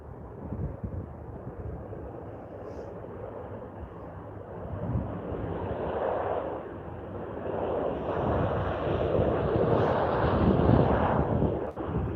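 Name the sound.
Air Canada Boeing 787 departing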